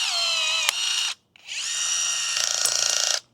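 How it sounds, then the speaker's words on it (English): A battery-powered INCENDIOS rivet gun on a DeWalt 20V pack gives two sustained high motor whines, the second longer with a rising pitch and rattling near its end, close up and with nobody talking. "I'm going to go over this battery-powered rivet gun"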